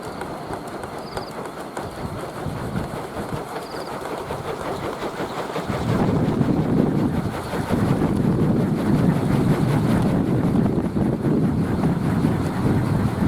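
Bamboo kolecer wind whirligigs spinning outdoors in gusty rainy-season wind, giving a steady broadband whirring rattle that grows louder and fuller after a few seconds, with wind noise buffeting the microphone.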